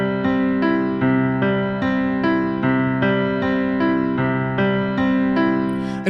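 A repeating piano chord pattern played steadily with the sustain pedal held down, about a dozen evenly spaced strikes blending into a smooth, ringing wash, close and alone without talk.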